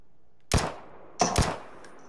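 Gunfire in PUBG: a single sharp shot followed by a quick burst of two close shots, loud and near, with quiet background between.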